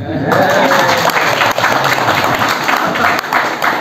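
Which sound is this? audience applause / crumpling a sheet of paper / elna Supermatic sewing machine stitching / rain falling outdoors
audience applause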